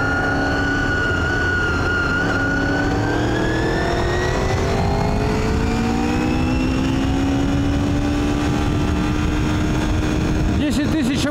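A 1999 Honda VFR 800i motorcycle revving hard in second gear on a ring road, loud engine whine climbing steadily in pitch as it accelerates, close and continuous throughout.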